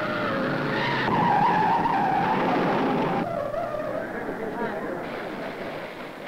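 Race car at the 1955 Indianapolis 500 spinning tail first out of the north turn, loud tire skidding and engine noise that eases off partway through, with a narrator talking over it.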